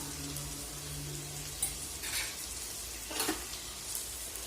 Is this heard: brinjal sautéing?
yes